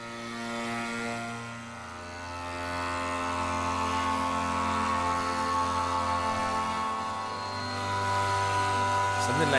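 Wide, spread chords on the Tonsturm Spiral Strings Spring Cello, sustained layered tones with a deep low drone and slow swells, steady and fairly loud with no talking.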